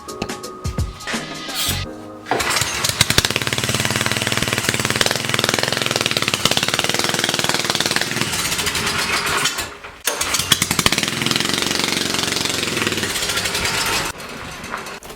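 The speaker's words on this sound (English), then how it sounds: "I'm gonna run it on jack stands first just to get it warmed up" A scrap go-kart's small engine runs on jack stands to warm up, a loud, close, rapid rattling putter that starts after a few brief cranks, dips briefly near the middle, then keeps chugging steadily.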